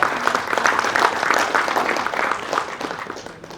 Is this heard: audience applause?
yes